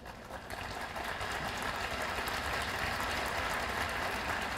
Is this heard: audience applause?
yes